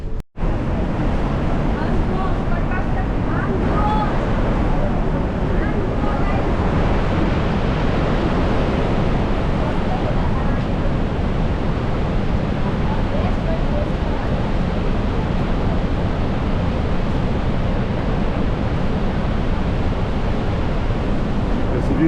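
Niagara Falls thundering from an outdoor viewing deck, a loud, unbroken wash of rushing water with wind buffeting the microphone and faint voices now and then.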